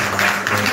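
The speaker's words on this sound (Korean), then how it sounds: "세 분께 큰 박수 부탁드립니다." Audience applause in a hall at a Korean talk event honouring three panel speakers: a short, dense burst of clapping, steady and fairly loud, with no voices over it.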